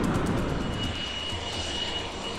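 An Indian Air Force Tejas supersonic multirole fighter jet roars loudly and continuously from its engine, a broad rushing drone that slowly eases slightly in strength, with no speech.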